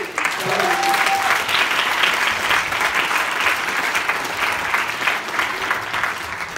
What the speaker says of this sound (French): eux aussi méritent des applaudissements